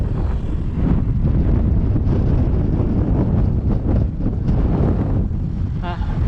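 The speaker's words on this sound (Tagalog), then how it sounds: "Nakalakas yung hangin." Strong wind roars and buffets the microphone in a loud, unbroken rush that swells and dips slightly throughout.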